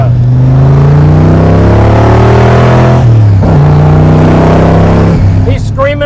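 A car pulls up close to the camera at a drag racing event, its engine very loud and near, with revs climbing and dropping in a few sweeps across the clip.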